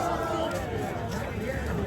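Dense crowd of pilgrims gathered for the early-morning bathing at Mahakumbh in Prayagraj, a continuous murmur of many voices with someone talking close by.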